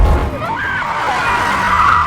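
A car skids and strikes a person in a film scene, a sustained screech of tyres with a low thump at the start and a rising whine over about two seconds.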